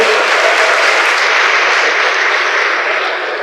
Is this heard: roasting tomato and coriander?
no